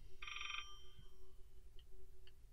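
A telephone rings once in a short electronic burst, fairly faint in a quiet room, followed by a couple of softer, brief electronic chirps.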